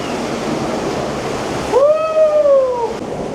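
The waterfall stream at Robbers Cave in Dehradun rushes in a steady broadband roar, with a brief high tonal cry rising above it midway, then fading.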